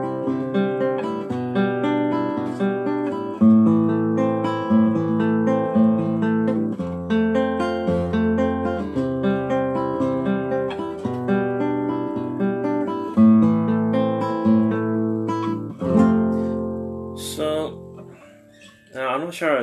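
An acoustic guitar plays a simple melodic passage with plucked notes and chords, close and clear, pausing briefly near the end.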